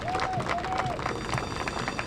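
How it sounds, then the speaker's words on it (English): A round of applause from an audience for the transit director at a cable car anniversary gathering, steady dense clapping with crowd noise and faint voices mixed in. "Again, a round of applause for our Director of Transit,"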